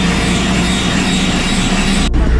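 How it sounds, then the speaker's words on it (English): Aircraft engine droning loudly and continuously before takeoff for a skydiving flight in Interlaken, Switzerland, a close, steady roar with a brief dropout near the end. "Oh yeah, Sophia, we're ready for takeoff, huh?"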